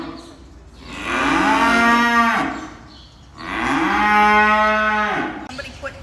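Cattle on a university animal farm give two long, loud moos close by, each swelling and fading with a short pause between, and no talking.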